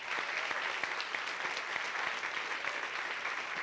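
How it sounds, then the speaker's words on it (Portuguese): A church congregation claps together during a communion service, a soft, continuous patter of many hands heard from a distance with no voices over it. "Você podia aplaudir Jesus pela vida dele"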